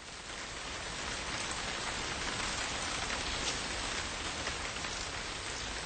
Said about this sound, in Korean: 선명한 빗소리가 못내 귓속으로 흘러들었고